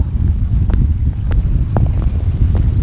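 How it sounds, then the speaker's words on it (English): Wind gusting across an open fishing boat on the water, a steady low roar of wind buffeting the microphone throughout, with a few faint, brief clicks and knocks over the rumble. "Wind is actually slowing us down perfectly, so I don't have to touch the troll motor anymore."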